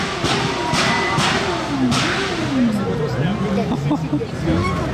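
A motorcycle engine revs and fires off the rev limiter loudly at a supercar rally gathering in Nice, rising and falling in pitch amid crowd chatter and voices talking nearby.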